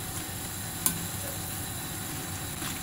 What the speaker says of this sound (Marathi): जर असं वाटलं की तेल अजून तापलेलं नाहीये तर तुम्ही फुल गॅसवर पण तळू शकता